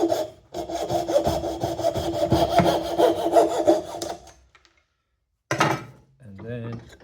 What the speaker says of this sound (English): 2 hands on the coping saw handle.